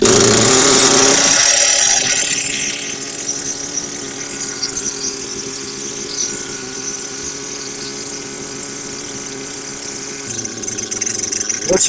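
An old Savage 25 engine idling roughly with out-of-adjustment linkages: a steady, close mechanical clatter and rumble, louder at the start, then settling into an uneven running idle, with a voice heard over it.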